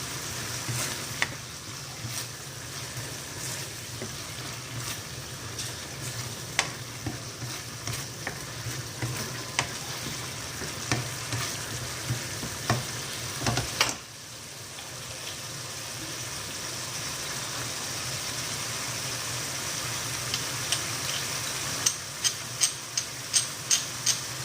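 Tilapia fries in a pan as soy sauce goes in, a steady close sizzle dotted with frequent small crackles and pops, briefly dipping before sizzling again, with light ticking clicks near the end.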